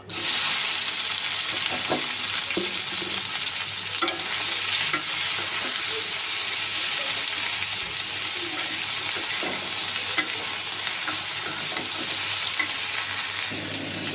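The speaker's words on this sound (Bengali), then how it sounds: "এখানে হচ্ছে ভেন্ডি ভাজিটা বসাই দিলাম" Okra (bhindi) sizzles steadily as it fries in a pan, a constant close hiss with occasional soft stirring clicks and no voices.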